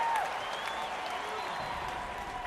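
Boston Red Sox crowd applauding in the 1969 Mets versus 1967 Red Sox matchup of Action PC Baseball, a steady wash of clapping and crowd noise with a faint whistle at the start.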